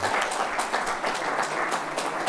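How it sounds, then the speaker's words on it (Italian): School classes of students in an audience applaud together, a dense, steady burst of clapping lasting a couple of seconds at moderate loudness with no talk over it. "invitiamo anche a farsi sentire con un applauso le classi presenti"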